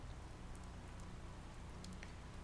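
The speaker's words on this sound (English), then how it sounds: "The rain fell in steady sheets, and the air in your room felt cooler, calmer," Steady rain falls in the video game Willowmist Emporium: a faint, even hiss with soft scattered drip taps, continuous and unchanging, with no voices.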